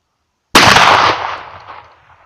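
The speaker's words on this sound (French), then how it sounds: "Maintenant, on va tirer le canon du haut." A 12 gauge Ildiz shotgun fires its top barrel once, a single loud, close blast that rings out and decays over about two seconds, with no talk.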